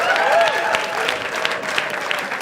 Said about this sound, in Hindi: स्टैंडिंग ओवेशन दे दो